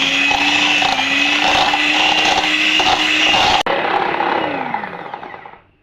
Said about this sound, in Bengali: ইলেকট্রিক বিটার দিয়ে আমি ক্রিমটাকে ভালোভাবে বিট করে নেব।